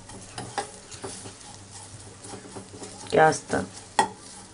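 Ingredients are mixed in a pan while cooking, giving a soft sizzle under scraping stirs and a few louder clinks of a utensil against the pan; someone speaks briefly over it.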